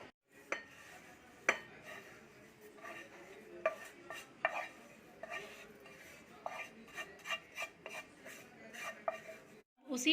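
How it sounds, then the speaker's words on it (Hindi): A spoon scrapes roasted oats out of a pan, a run of clinking, scraping metallic scoops at irregular intervals, close and fairly quiet. "मैंने ओट्स को रोस्ट कर लिया है। अब मैं इसे निकाल ले रही हूँ।"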